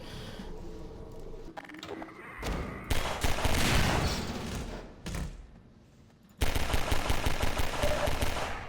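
Sustained automatic gunfire from the video game Half-Life 2, set in Ravenholm, loud and continuous with dense bursts, a brief lull near the middle and another heavy volley that resumes and runs to the end.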